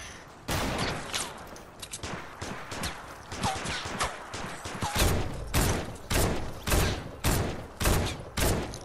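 Gunfire in a Fortnite match, with rapid bursts of shots and steady repeated blasts through the whole stretch, loud and close with no talking.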